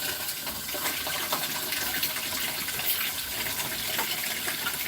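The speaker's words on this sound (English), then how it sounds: "I'm going to add a little bit of water into this" Water pours steadily into a pan in a camper kitchen, a continuous splashing gush lasting several seconds with no talk.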